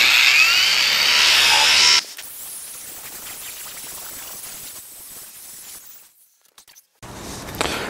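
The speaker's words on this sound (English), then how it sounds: "now that we got our top pretty well cleaned up here with our strip disc" A strip disc grinds rust and paint off a metal table top for a DIY welding fixture table. It starts with a loud, harsh abrasive whir for about two seconds, then drops to a quieter rattling run-down that nearly fades out before a brief return.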